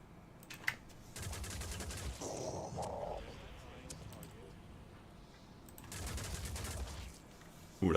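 Gunshots in the tactical game Phoenix Point, fired as a couple of bursts that stand out against quiet background ambience, with a voice speaking in between.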